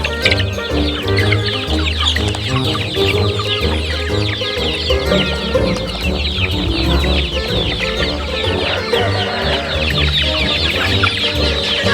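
A crowd of free-range chickens on a poultry farm clucks continuously up close, overlapping calls and squawks filling the whole stretch with no talking.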